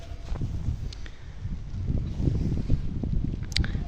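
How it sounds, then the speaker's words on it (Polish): Steady wind blowing with a low rumble and gusty buffeting against the microphone, continuous and moderately loud. "Wiatr zaczyna się wzmagać"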